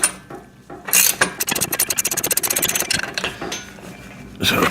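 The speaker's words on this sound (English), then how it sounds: "Then we are going to crank that down" A ratchet cranks down a nut while assembling a VEVOR pec deck and rear delt machine, giving a fast run of rhythmic metallic clicks up close with some scraping between strokes.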